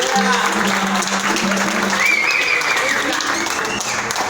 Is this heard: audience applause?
yes